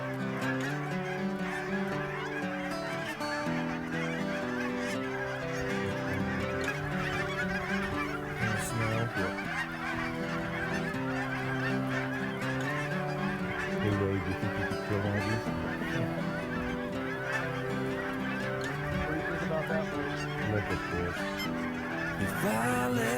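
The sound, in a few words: Canada geese honking in flocks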